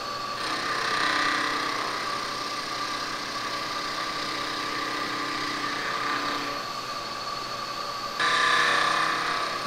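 A homemade chamfering tool cuts a chamfer on a clamped metal part, giving a steady, loud, high-pitched machining whine that shifts slightly partway through and rises again near the end.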